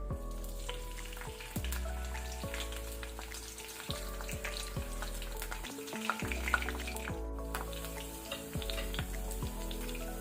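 Green chillies frying in hot oil over a low flame, a steady sizzle and crackle with occasional stirring sounds, close up and alone.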